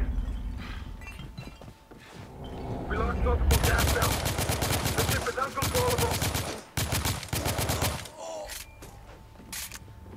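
Rapid bursts of gunfire in The Order: 1886, a Victorian-era shooter, crackling loud and close in dense volleys with short gaps, clanking mechanical clinks, and a voice calling out between shots.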